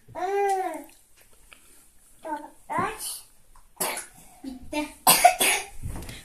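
A young child with a bad cough gives several harsh coughs in short spaced bursts, mixed with nearby childish babbling and vocal sounds.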